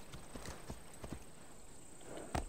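Horse hooves in the video game Assassin's Creed Odyssey clip-clop at a slow walking rhythm, fairly quiet, with a steady high tone in the background and a sharper thud near the end.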